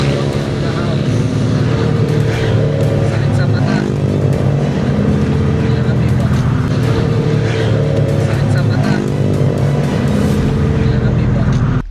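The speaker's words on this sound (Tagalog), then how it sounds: "pag dumaan itong motor na naka-open pipe ang tambucho" A motorcycle with an open exhaust pipe passes close by in traffic, its loud, raw engine roar rising and falling through rev swells, dominating the street noise for the whole stretch.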